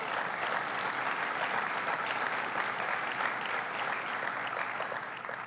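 A large audience claps steadily for several officials at an announcement event for new gates opening at LaGuardia Airport, a dense, even wash of applause that holds at moderate loudness throughout.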